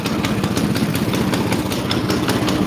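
A chainsaw engine idles roughly in cold winter weather while cutting firewood, a steady close, loud mechanical drone with an uneven pulsing beat that holds for the whole stretch, with no talk over it.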